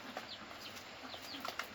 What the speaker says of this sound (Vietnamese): Nó gà con này